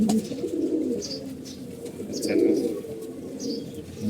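Several old-breed pigeons coo indoors at home, a continuous low, throaty warble rolling on and off nearby, with a few faint chirps above it and no one speaking.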